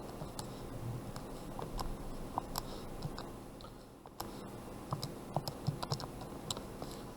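Fingers tap answer keys on a calculator, a run of light, quick clicks scattered across several seconds, close by and fairly soft against a low room hum.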